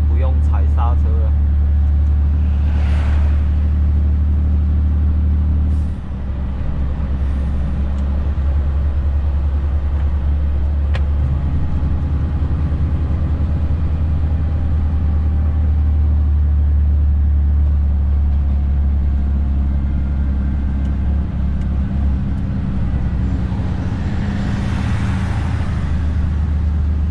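A Volvo FM420 truck with a manual gearbox climbs the Dapingding hill road, its engine giving a loud, steady low drone with engine-braking rumble and passing road noise, while voices talk over it.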